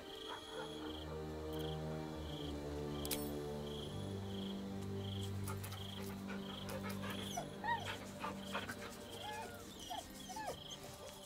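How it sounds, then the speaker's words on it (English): A dog in Baldur's Gate 3 whimpers softly with a small bag held in its mouth. Its faint whines sit over a quiet night ambience of chirping crickets and croaking frogs. "The dog is unable to speak through the small bag he holds in his mouth."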